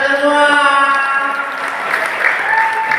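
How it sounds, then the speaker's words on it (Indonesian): Audience applause at a school alumni parody show, steady clapping mixed with a sustained musical tone, with voices faintly present underneath. "Tepuk tangan buat kita semua."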